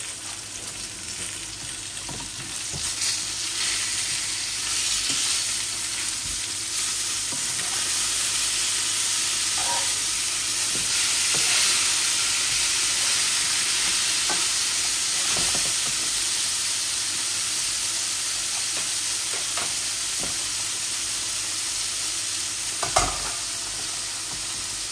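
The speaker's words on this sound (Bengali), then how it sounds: "মাছগুলা বালা করে ভাজছি" Tilapia fish frying in a pan, a continuous loud sizzle and hiss with occasional stirring scrapes and a sharper knock near the end, with no talking.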